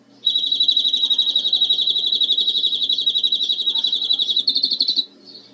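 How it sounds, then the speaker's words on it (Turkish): A single bird sings a long, rapid, high-pitched trill for about five seconds, loud and close, with a brief change in tone near the end. "Yani topu topu 5 saniye ötmüş kuş"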